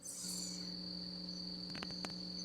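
Crickets chirp steadily at night, a continuous high trilling that holds throughout, with a faint low hum beneath and a few sharp clicks near the end.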